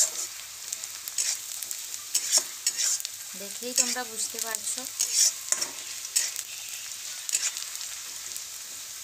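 Soya chunks sizzle and crackle in a pan, frying brown, with scattered sharp pops and stirring scrapes; someone speaks briefly over the frying.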